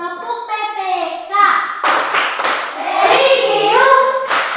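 Schoolchildren in an Indonesian classroom chant and clap the Tepuk PPK rhythm, with sharp bursts of group hand claps breaking into the loud sung chanting of many young voices.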